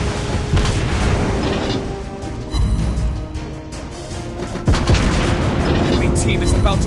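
Loud, continuous booms of naval gunfire from a World of Warships battle roll and overlap, with deep blasts and a game voice speaking over the barrage.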